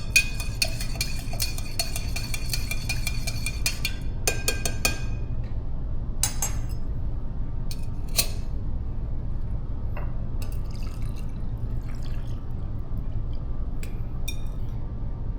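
A whiskey sour cocktail is mixed, with bright glass clinks and chinks clustered early, then sparser light clinks and liquid sounds over a steady low hum, no voices.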